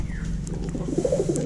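A pigeon coos softly close by, giving a few low, throaty coos over a faint steady hum.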